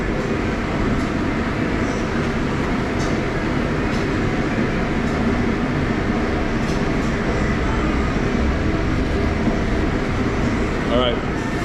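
A rotisserie at a taco stand in Ensenada, Baja, roars like a jet engine, a loud, constant whoosh filling the space, steady and close, with faint background voices and clatter.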